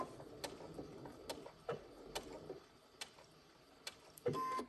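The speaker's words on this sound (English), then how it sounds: "I'm going to go ahead and back stitch to tie off" A sewing machine backstitches to tie off quilt binding on a bench pillow, giving a faint, steady run of light mechanical ticks and clicks, with a louder burst of stitching right at the end.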